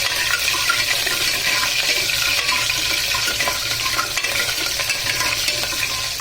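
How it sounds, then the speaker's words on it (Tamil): Green chillies fry in a pan for nukal kuruma with a loud, close, continuous crackling sizzle. The hiss stays dense and even throughout, and no one speaks. "அந்த பச்சை மிளகாவை போட்டுருவோம்"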